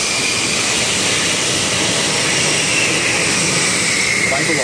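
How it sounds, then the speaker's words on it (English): A pair of F-16 Falcon jet fighters prepare for takeoff on a runway at an air show, their engines giving a loud, steady, unbroken whine and roar over a broad rushing hiss. "The pair of F-16 Falcons ready themselves to race down the runway for a safe takeoff"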